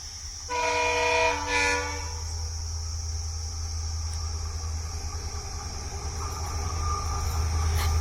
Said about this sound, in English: Here comes goods train